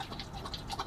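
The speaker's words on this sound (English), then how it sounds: "Yeah, the dog's having a drink. Cooper's just having a drink" Cooper the dog laps water at a campsite in North Wales, a brief burst of faint, quick wet lapping sounds close by.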